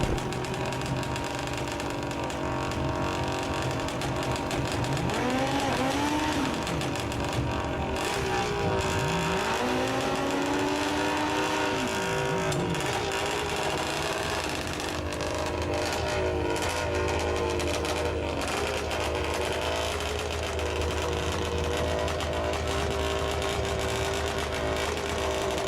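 Racing motorcycles, among them an 82 Yamaha and a 2012 ZX, roar on an outdoor track, their engines revving and sweeping up and down in pitch without pause for the whole stretch, loud and close over a steady background din.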